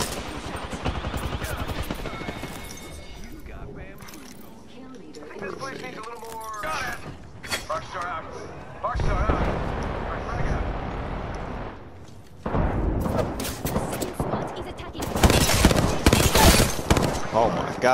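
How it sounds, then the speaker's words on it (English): Hemlok rifle fire in Apex Legends comes in rapid bursts, mixed with other game gunfire and effects, growing louder and denser toward the end while a player talks over it. "this Hemlock is so fucking nasty"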